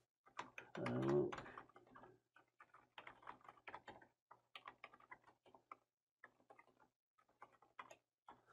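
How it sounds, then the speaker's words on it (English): Someone types text on a computer keyboard while composing a message in Microsoft Teams: quiet, close clusters of quick key clicks in irregular bursts, with one louder rattling moment near the start. "And then I would type in my text."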